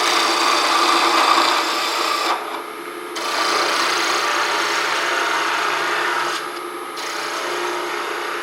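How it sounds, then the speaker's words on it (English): A turning tool rubs against a spinning wooden pen blank on a lathe, which is still not round: a steady, close scraping hiss that drops quieter for two short stretches. "You can also rub the tool like that, and that tells you that we're still not round yet."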